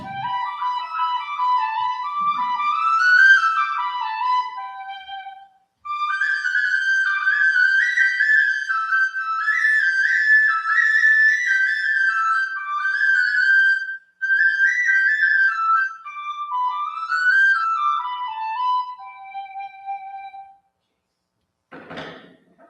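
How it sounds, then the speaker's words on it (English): A new Irish whistle played as a clear, close solo melody of sustained and ornamented notes, with a couple of brief pauses between phrases and a small knock at the end. "I got a new Irish whistle,"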